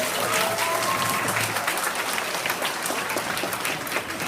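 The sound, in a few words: audience clapping on request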